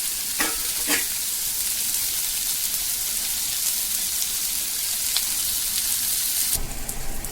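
A steady, close sizzle of a mixture with salt, garam masala, chili powder and turmeric frying in a pan, with occasional scraping stirs and a brief louder burst near the end; no talking.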